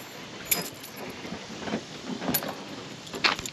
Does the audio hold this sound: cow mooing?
no